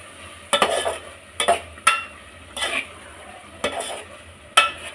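Mushroom pulao ingredients are stir-fried in a pan: about six distinct scraping strokes of a spatula against the metal, each with a burst of sizzle, over a quiet frying background and no speech.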